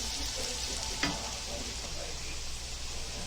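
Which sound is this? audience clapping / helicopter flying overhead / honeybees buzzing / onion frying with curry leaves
onion frying with curry leaves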